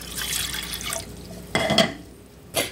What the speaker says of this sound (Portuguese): Aí vou jogar um pouquinho de água.